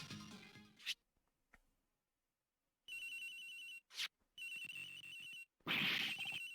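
Cell phone ringing in the Ace Attorney Investigations video game, repeated bursts of electronic ring tone separated by short gaps and brief clicks, clear and close with no talk.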